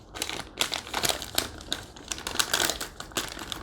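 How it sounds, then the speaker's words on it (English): Crinkly plastic pouch of chocolate beverage powder from an MRE ration rustling and tearing open in a rapid series of crackles and crumples, close up, with no talking. "I'm going to start off by opening up this beverage powder."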